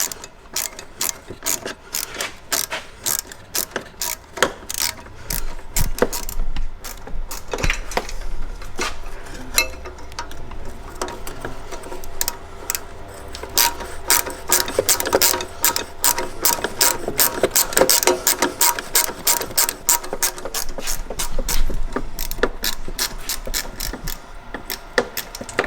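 A ratchet clicks in rapid bursts while undoing bolts on a Ford Focus ST Mk2 recirculation valve, with repeated close metallic ratcheting runs and pauses over about twenty-five seconds.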